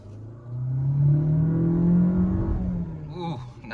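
A 2025 Opel Grandland with a 134 kW engine and automatic transmission accelerates hard from a left turn. It gives a throaty, steadily rising engine drone that holds loud for a few seconds, then eases off at the end.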